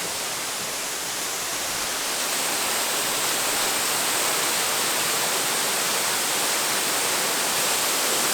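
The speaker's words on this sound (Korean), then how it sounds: "여기 폭포 소리 들리시죠?" Broad, steady roar of a large artificial waterfall at an outdoor village park, continuous and loud with no breaks, filling the scene like dense rushing noise.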